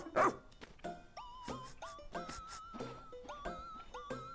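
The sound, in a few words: pup dog barking in Pikmin 4 video game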